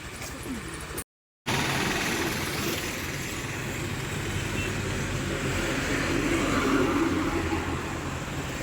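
A motorcycle carrying two riders heads off to a surprise birthday party. A steady, low engine-and-road rumble rolls on continuously, with one brief cutout near the start.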